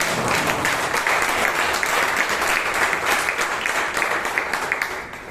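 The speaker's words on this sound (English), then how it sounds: "Applause, please." Hearty applause from the audience at a Toastmasters club meeting in Bangalore, a thick, continuous wash of clapping lasting about five seconds before easing off.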